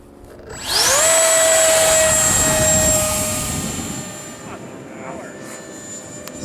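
An H-King Flycat 70mm electric ducted fan jet model spools up for an underhand launch, its fan rising into a loud, high-pitched whine, then holding and slowly fading as it flies away outdoors.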